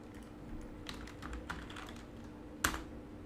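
Rapid keystrokes on a computer keyboard, clattering in a quick irregular burst at close range with one sharper, louder key strike near the end, over a faint steady room hum.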